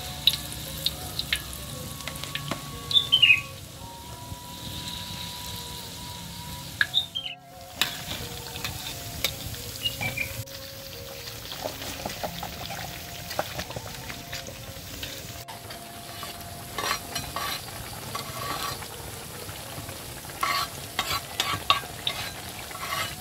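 Bakwan vegetable fritters fry in a home kitchen, a steady soft sizzle of hot oil with scattered clinks and stirring scrapes throughout.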